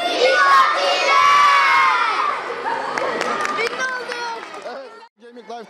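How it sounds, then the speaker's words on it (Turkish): Schoolchildren at a middle school in Gemlik, Turkey, shout a holiday greeting together at the start of the half-term break: a loud unison cheer that breaks into scattered voices and chatter before a brief pause. "hep beraber iyi tatiller diye bağıralım"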